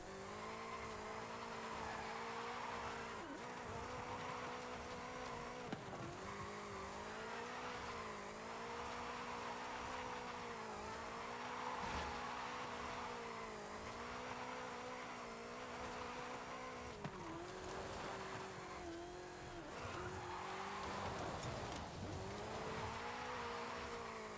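Simulated 2015 Ford Mustang GT V8 from Forza Horizon 5, its engine droning and revving steadily with shifting pitch and occasional tire noise, continuous and fairly loud throughout with no talk.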